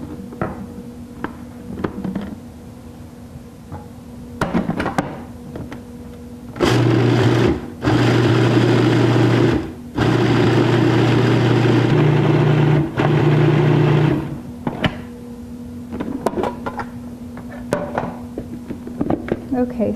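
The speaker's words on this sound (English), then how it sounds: "we're gonna process this so it kind of grinds everything up into a fine flour" A food processor grinds superfood ingredients into a fine flour in several loud bursts of motor whirring, separated by brief pauses, with quieter kitchen handling before and after.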